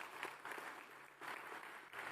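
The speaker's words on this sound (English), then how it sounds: "Another round of applause for everyone who's here." A summit audience gives a round of applause, a soft even patter of many hands that swells slightly, somewhat distant and with no talk over it.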